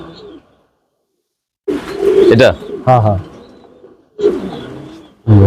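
Pigeons coo in bursts on a pigeon farm, close and fairly loud, separated by brief silences, with someone speaking briefly between the calls.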